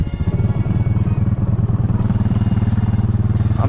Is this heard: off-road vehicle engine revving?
yes